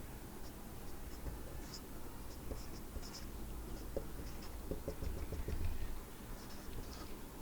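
Scratchy, faint marks of writing examples on a board, coming in short irregular strokes over a steady room hiss and low hum.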